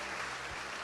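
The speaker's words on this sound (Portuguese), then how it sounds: "Aplauda o Senhor Jesus" A church congregation applauds in a short, dense burst of clapping that fills the space evenly, with no voice heard over it.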